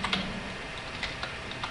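Quick burst of keystrokes as a PowerShell command is typed on a computer keyboard, a close run of light, uneven clicks with no voice.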